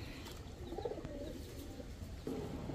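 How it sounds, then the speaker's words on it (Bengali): Pigeons, including a male bred from red Gola stock, give low soft coos in short bursts, close but quiet, over faint background chirps. "এখন দেখাবো লাল গররা থেকে আসা একটা নর কবুতর"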